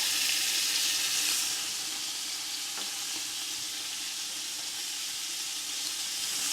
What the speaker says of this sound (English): See that meat in there browning up.